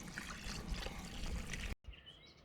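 Cold water pouring steadily with a soft splashing trickle at a tiny-house building site, quiet and close, stopping abruptly near the end.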